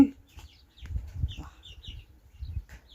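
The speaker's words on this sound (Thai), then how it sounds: "ไก่เราน่ะไก่ป้าใหญ่ช่างไก่ลุง" Chickens clucking close by at a rural home, a few short calls that rise above quiet, low rumbling background voices.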